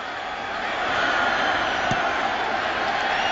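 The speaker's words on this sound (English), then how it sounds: "He gets a cheer from the crowd" Football stadium crowd at a Washington Redskins vs Denver Broncos game, cheering a punt with a broad, sustained roar that rises slightly and holds steady.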